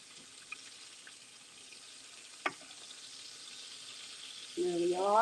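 Shrimp frying in hot oil, a soft steady sizzle with a couple of brief clinks, then a louder rising hiss toward the end as the pieces are turned.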